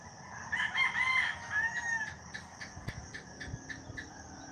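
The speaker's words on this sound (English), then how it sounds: "I hear pigs whining way in the background, roosters, some other birds, a symphony," A rooster crows loudly in a long wavering call at a rural morning spot, followed by other birds chirping in a steady repeating pattern, with faint distant farm animal sounds behind.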